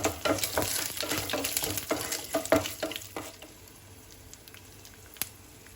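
Dal frying with four garlic cloves and an inch of ginger is stirred in a pan, giving soft scraping and sizzling strokes that are strongest early and fade toward a quieter simmer.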